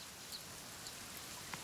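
A light drizzle of rain falls in a forest, a faint, steady patter with a few scattered drops ticking nearby.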